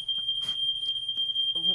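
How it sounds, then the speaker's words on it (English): A smoke detector's fire alarm shrills as one steady, piercing high tone running the whole time, loud and close, while people talk and shuffle around it. "The fire alarm's going off."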